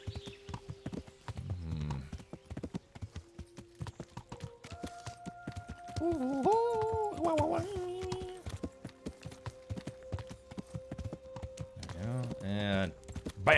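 Horse hooves clip-clop steadily on the ground in the medieval game Kingdom Come: Deliverance, a close, rhythmic plodding that runs throughout while someone talks over it and brief game music plays.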